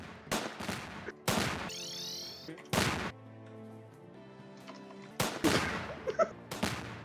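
Gunfire in the Roblox game Shoot a Friend obby: several sharp, loud shots in separate bursts spread through the clip, with electronic game sounds between them.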